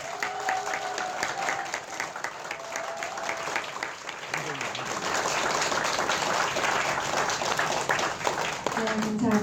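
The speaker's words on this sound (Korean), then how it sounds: "여러분 다시 한번 큰 박수 보내드릴까요?" Audience at a press conference for a Seoul education superintendent candidate applauding, sustained crowd clapping building louder over several seconds with voices mixed in.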